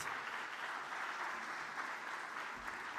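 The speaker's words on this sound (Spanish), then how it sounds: "Por favor, un fuerte aplauso para Ricky Bardet." An audience at an urban planning conference in Santiago applauds a speaker, an even, faint spread of clapping that holds steady for the whole stretch, with no talking.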